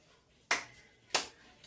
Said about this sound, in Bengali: আমরা কিন্তু এইরকম ভাবে হাততালি দেব না, আমরা এরকম ভাবে হাততালি দেব